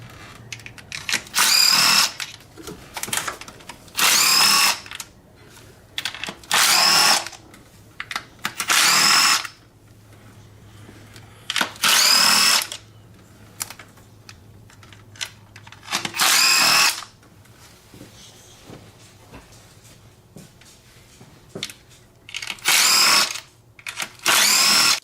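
An impact wrench loosens the valve cover bolts on a Ford 2.3L/2.5L DOHC engine, with around nine loud, buzzing bursts of a second or two each separated by quiet pauses.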